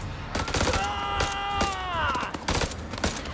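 Gunfire in the video game House of Ashes: rapid, loud bursts of shots crackle close by, with a sweeping tonal sound in the middle of the volley.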